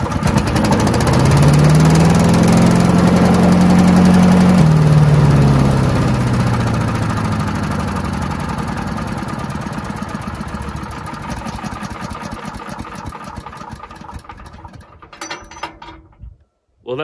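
A gasoline wood chipper engine cranks and catches, then runs with a loud, steady mechanical drone. A low whining tone rises and falls early on, and the running clatter continues until the engine cuts out near the end.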